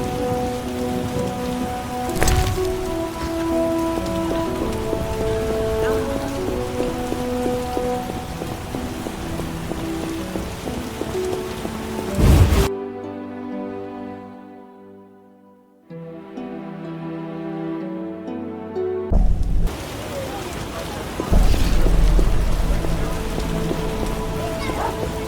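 Steady rain pours down in The Witcher 1, a dense hiss of drops broken by soft rumbles, with game music and voices mixed in. Midway the downpour cuts out for several seconds and then returns just as heavy.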